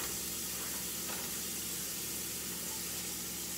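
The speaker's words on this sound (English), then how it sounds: "you want to fry it on either side for about three to five minutes on each side" A thin catfish fillet searing in a frying pan gives off a steady, dense sizzle and hiss that holds at an even level from start to finish, with no voices.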